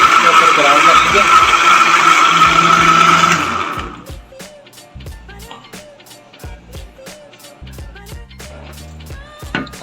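A kitchen mixer grinder whirs loudly as it purees boiled ginger and garlic into a paste for chicken korma. It runs steadily for about four seconds, then cuts off, leaving faint clicks and handling sounds.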